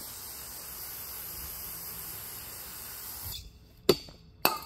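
A steady, close hiss of spray runs for a few seconds over a balanced crankshaft being cleaned, then cuts off, followed by two sharp clinks.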